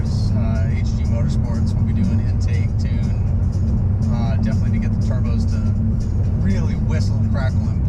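BMW M5 Competition, a 2014 twin-turbo V8 sedan, its loud exhaust droning steadily for the whole stretch with turbo whistle riding on top, while people talk over the engine.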